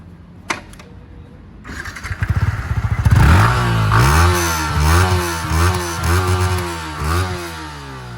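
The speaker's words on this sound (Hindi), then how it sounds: "बाइक का आप एग्जॉस्ट नोट सुना दीजिए हमारे व्यूअर्स के लिए" A Yamaha MT-15 motorcycle engine starts with a few sputtering pops, then settles into a loud idle with rhythmic throttle revs rising and falling, close by, no talking.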